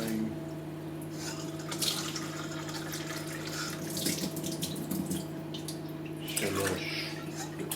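Cups of water poured into a pot holding rice and rinsed lentils for a vegetarian eggplant moussaka, a continuous close splashing pour in several successive cupfuls under a steady background hum, with a voice counting along.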